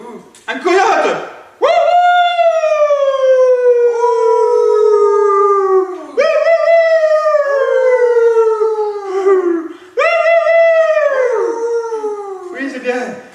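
Several people in a group imitate coyote howls with their voices, long rising-and-falling wails repeated three times, each starting sharply and sliding down, loud and close.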